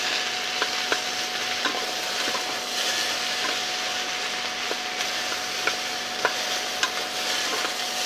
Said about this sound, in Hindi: डालूंगी थोड़ा सा नमक, और उसे अच्छी तरीके से हमें फ्राई करना है।